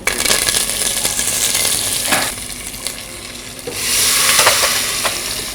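Curry leaves sizzling and stirred into frying mutton for a mutton fry, a loud, steady crackle with a brief dip midway before the sizzle swells again, close up and without talk.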